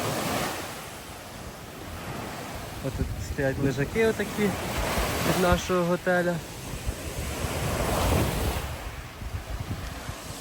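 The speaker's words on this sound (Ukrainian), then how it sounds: "Зараз трохи хвилі на морі." Sea waves wash steadily onto a beach on the Makarska Riviera, Croatia, with wind buffeting the microphone, while someone talks in the middle of the clip.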